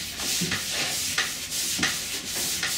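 Wet sanding strips a first coat of nitro putty, giving rhythmic back-and-forth rasping strokes about every half second, close and steady, with no talking.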